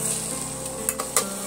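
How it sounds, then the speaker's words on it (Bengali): Potatoes and onions fry in a pan for an egg omelette curry and are stirred, giving a loud, close sizzle with a few sharp scraping stirs near the end. "দিয়ে আমি সমস্ত পেঁয়াজের সঙ্গে এইভাবে একটু নাড়াচাড়া করে নেব।"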